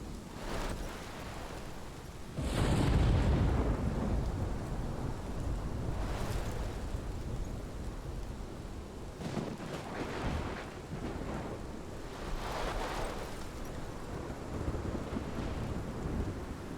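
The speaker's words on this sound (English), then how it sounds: "This is my storm." Thunderstorm in the video game Life is Strange, steady roaring rain and wind with deep rolling thunder swelling loud early on and rumbling again later, continuous and close with no voices.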